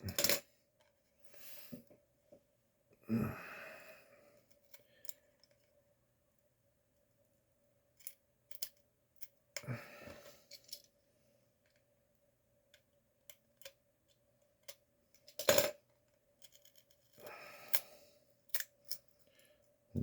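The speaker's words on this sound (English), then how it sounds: "Now I'm going to peel this up a little bit." Aluminum tape being peeled up while skinning a model engine nacelle, heard as several short crinkly crackles and sharp tearing ticks spaced apart by quiet stretches, close and faint, with no talking.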